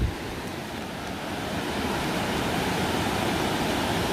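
Ocean waves crest and break continuously in open water, a loud, steady wash of surf with wind buffeting the microphone and no voices.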